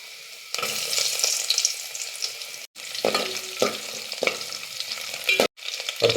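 Ginger and garlic fry in hot coconut oil in a pan for a prawn roast, a loud, steady close sizzle with stirring scrapes and brief dropouts, no voices.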